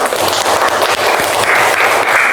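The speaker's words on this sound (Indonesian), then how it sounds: "Tepuk tangan untuk kalian semua." Applause in a class lesson on helping others: a short, loud burst of clapping from a group, close and continuous, with no talk over it.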